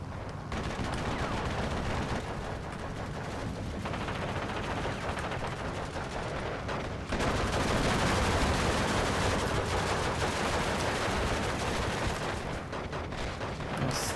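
A dug-in, entrenched bunker gun fires in the Steel Division 2 war game, a continuous rumble of heavy shots and battle noise that grows louder midway and stays dense to the end.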